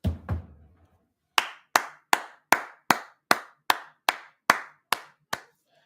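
A person claps hands about eleven times in a slow, even rhythm. The claps are sharp and close, with silence between them, and a short muffled thump comes just before.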